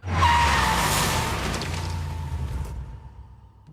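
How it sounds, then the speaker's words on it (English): A car drifts with squealing tires during a film shoot for the action movie Fast Five. The sound is a loud, sustained whooshing skid with a steady high squeal, fading slightly over about four seconds, with no talk. "there's going to be a lot of basically drifting shots with that"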